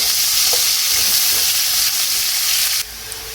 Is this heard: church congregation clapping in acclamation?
no